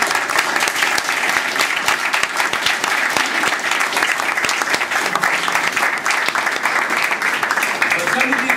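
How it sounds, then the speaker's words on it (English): An audience at an evening children's stage production of Alice claps steadily throughout, dense continuous applause filling the hall at full volume. "can we have a round of applause for the children and the grown-ups?"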